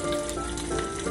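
Pizza sizzling in the oven in the Osmo Pizza Co kids' cooking game, a steady, fairly faint frying hiss heard alone with a faint tonal hum beneath.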